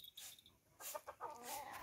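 Chickens cluck faintly at close range in a few short, irregular bursts, with quiet gaps between them and no voices.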